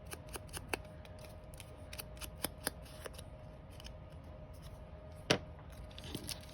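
Scissors snip through a paper printable glued onto cardstock with a run of crisp, close cuts at irregular intervals, then a sharper louder snip near the end and faint handling between them.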